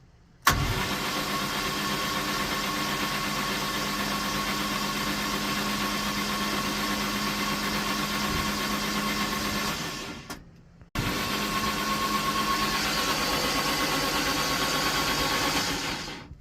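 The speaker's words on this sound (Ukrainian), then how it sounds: "Двигун зібрано, масло залито. Зараз спробуємо." A reassembled bus engine cranks and starts, then idles steadily and loudly for about ten seconds, cuts out briefly, and restarts into an even idle with no talking.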